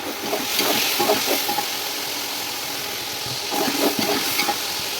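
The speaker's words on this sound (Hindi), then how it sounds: "अब ये जो हमने यखनी निकाली थी, थोड़ा थोड़ा सा इसमें ये ऐड करते जाएंगे ताकि ये गल जाए।" Yakhni stock is poured a little at a time into vegetables frying in a pan for a restaurant-style Chinese chicken and vegetable rice, setting off a loud, close, steady sizzle with stirring swells.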